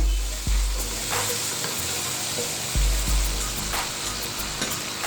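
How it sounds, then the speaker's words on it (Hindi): Chopped tomatoes and finely cut green chilies are stirred into cumin frying for cumin rice: a dense close sizzle broken by a few heavy stirring thumps. "आप इसके अंदर टमाटर के कटले और सब्ज़ मिर्च बारीक कटी हुई अंदर ऐड करेंगे, और इसको मिक्स करेंगे"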